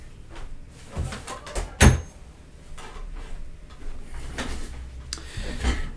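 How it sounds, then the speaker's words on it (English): A door swings shut indoors with one sharp knock near the middle, amid faint room noise and small bumps. "I'm going to close the door here"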